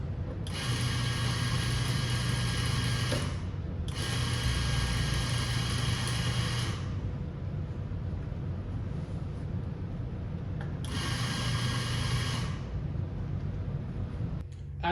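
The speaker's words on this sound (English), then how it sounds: "go ahead and grind some coffee into your catch chamber" A coffee grinder grinds beans into its catch chamber in three loud bursts: a long whirring run, a short gap, another run, then a final burst after a pause, all up close with a steady mechanical hum between.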